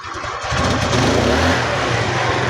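A Rusi motorcycle engine revved after carburetor work, rising sharply from idle into a loud, rough, sustained roar up close, without speech.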